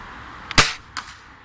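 A ZM51 airsoft gun fires one sharp, loud snap, followed a moment later by a fainter, softer click, close by with no talking.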